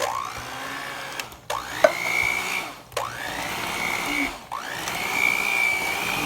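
Electric mixer beating pound cake batter with crushed pineapple, a loud whirring motor that rises in pitch, stops briefly and restarts three times, close up.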